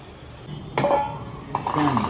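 A large metal cooking pot and dishes clatter in a home kitchen while tea is being made, with a couple of sharp clanks and rattles close by and a voice talking over them.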